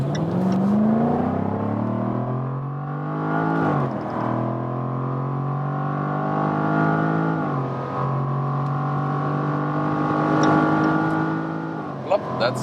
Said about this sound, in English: now we have closed the top and give you some more acceleration